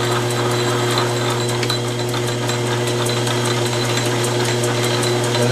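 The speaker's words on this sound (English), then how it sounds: "now I'm taking just a little light cut off of one side of that square thread" A lathe takes a light cut on a square thread, giving a steady mechanical hum with a low tonal drone and fine, rapid ticking throughout, loud and close with no voices.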